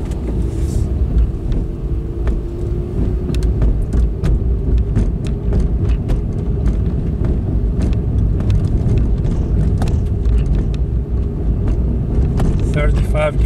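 A VW e-Up electric car drives with regenerative braking at maximum recuperation level, giving a steady low road rumble inside the cabin with small clicks and rattles, while people talk over it.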